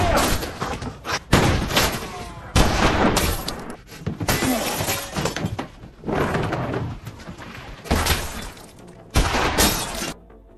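Loud gunfire from Dugan in the western Old Henry, cracking out in repeated sharp bursts across the scene, one after another with brief pauses between, mixed with slams and impacts.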